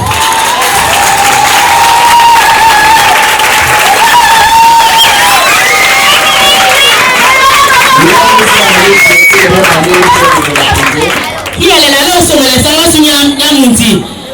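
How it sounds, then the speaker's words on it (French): Children at a Christmas tree gift event applaud and cheer in a loud, packed crowd, with high shouting and sustained, tonal voices ringing over the clapping throughout. "Est-ce que les enfants peuvent applaudir plus fort que ça?"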